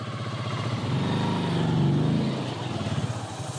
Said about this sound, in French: Il doit passer lui-même sa moto.